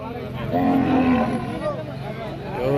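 A cow moos in a long, loud, low drawn-out call close by, with a second lowing sound rising near the end, at the Saturday cattle market in Pebbair.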